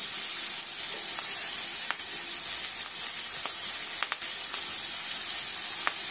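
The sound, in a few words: sautéing onion, tomato and curry leaves in a pan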